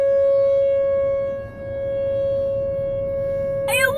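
A tornado civil defense siren being tested in Omaha wails as a steady sustained tone at strong volume, dipping briefly as it rotates, followed by a short burst of other sound near the end.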